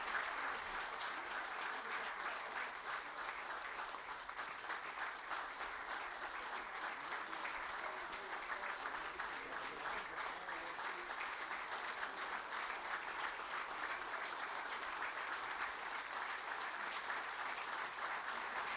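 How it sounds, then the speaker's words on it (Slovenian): An audience at a formal municipal ceremony in Medvode applauds an honorary citizen, producing dense, even clapping that stays steady and loud throughout. "Zaslužite si našega aplavza, spoštovana častna občanka občine Medvode"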